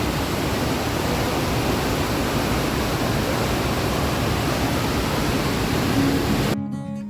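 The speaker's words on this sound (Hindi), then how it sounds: "ज़बरदस्त पानी चलता है यहाँ पर, इस बैराज से जहाँ से छोड़ा जाता है पानी" Loud, steady roar of water rushing out of a river barrage near the Karnali Bridge on the Nepal border, a dense unbroken wash of noise close by that cuts off abruptly at the end.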